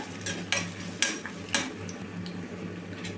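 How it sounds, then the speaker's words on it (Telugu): Coconut pieces fry in ghee in a pan for a village-style sweet, with a steady low sizzle under a few sharp scrapes of a utensil stirring, close and fairly quiet, no voices. "కొబ్బరి ముక్కలను అయితే వేసుకోవాలండి లైట్ కలర్ చేంజ్ అయ్యేదాకా వేయించుకోవాలి"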